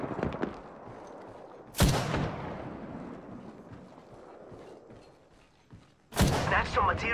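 Gunfire in Apex Legends, with two sharp booming shots a few seconds apart and a dense crackling rumble after each, loud and close over a continuous background din.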